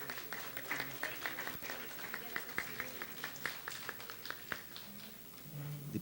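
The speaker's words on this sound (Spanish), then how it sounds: "un fuerte aplauso" An audience at a public forum applauds, a dense, fairly faint patter of clapping that holds steady for several seconds in a large room.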